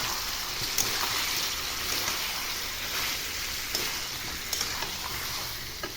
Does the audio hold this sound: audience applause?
no